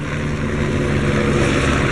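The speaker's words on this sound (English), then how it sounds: "Got the helicopters going past." Helicopters fly past overhead, a steady, loud rotor and engine drone that fills the whole stretch without letup, with no talk over it.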